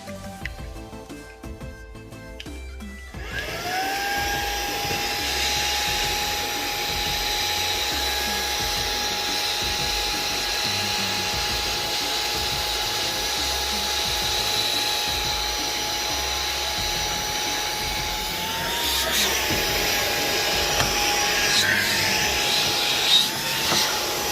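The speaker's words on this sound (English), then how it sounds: "So I'm gonna try to suck this up" An OYLIK 2-in-1 cordless air duster vacuum rated at 90,000 RPM sucks up finely ground coffee, its high-pitched motor whine starting after a few seconds of handling noise and holding steady and loud, with slight pitch dips near the end.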